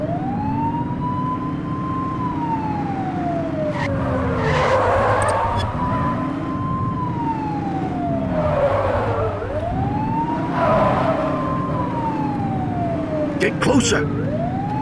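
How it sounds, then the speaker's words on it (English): A police car siren from The Precinct video game wails in long rising and falling sweeps over engine rumble and tyre skids, with brief shouted in-game speech near the end. "Remember to turn your siren on."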